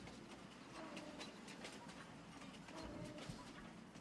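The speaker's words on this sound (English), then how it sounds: "here comes the train" A train rolls past in the Farming Simulator 25 video game, a steady broadband rumble with faint clickety-clack, holding a constant level for the whole stretch.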